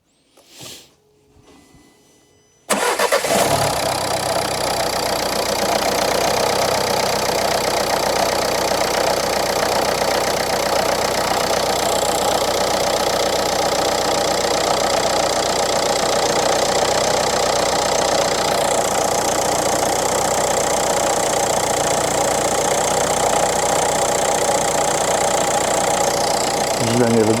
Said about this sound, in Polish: znaczy odpala samochód